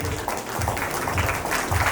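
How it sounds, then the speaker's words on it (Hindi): Applause at an award ceremony at St. Xavier's College, Ranchi: a crowd claps steadily and densely, a sustained roar of hands with a few louder low thumps, without speech over it. "तालियों की गड़गड़ाहट होती रहनी चाहिए,"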